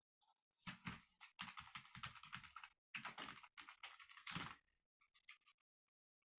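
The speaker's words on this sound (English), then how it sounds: "It sounds like you have a mechanical keyboard." Rapid clicky keystrokes from a mechanical keyboard, typed in bursts with short pauses, fading to a few scattered clicks near the end.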